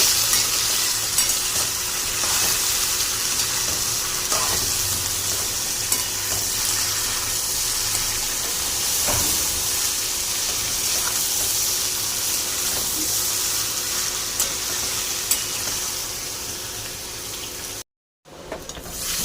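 Beetroot frying in a pan with turmeric and salt, sizzling steadily and close while being stirred, with soft scraping strokes throughout and a brief dropout near the end.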